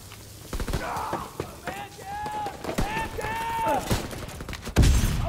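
A Thompson submachine gun fires in Call of Duty, sounding as bursts of sharp shots under steady talking. Other game sounds are mixed in, and a heavy thump comes near the end.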